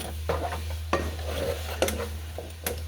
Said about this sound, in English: I'm going to get my meat browned up